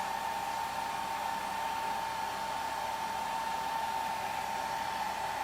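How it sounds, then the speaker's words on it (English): A hair dryer blows steadily on a watercolor painting of a Peruvian tiger lily, a constant close whirring hum with no break and no talking. "Just gonna hit this with a little bit more of the hair dryer."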